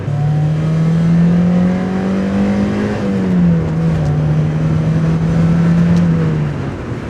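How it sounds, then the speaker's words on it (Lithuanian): A Mazda Miata with its naturally aspirated, non-turbo engine pulls hard under acceleration, a loud steady engine drone whose pitch climbs, dips at a shift and holds, with heavy road and wind rush underneath. "kadangi tai neturbininis variklis, lengvas kėbulas, atrodo tikrai žymiai greičiau važiuoja negu Nissanas."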